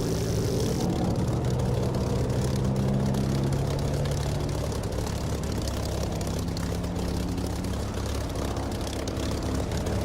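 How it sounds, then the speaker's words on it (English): A propeller aircraft engine in the DCS flight simulator game drones steadily after a slow pass over the runway, holding a loud, continuous low rumble as it pulls away. "Listen to that engine as he pulls away,"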